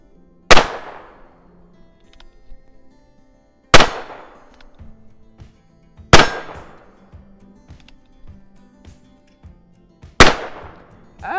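A Ruger Super Wrangler rimfire revolver fires four loud, sharp shots at steel plates, spaced a few seconds apart, each with a ringing decay, and faint clicks and handling noise in between.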